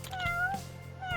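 A cat in the Yakuza pirate game set in Hawaii meows once, a clear, drawn-out meow at close range, quiet overall with a faint steady hum underneath.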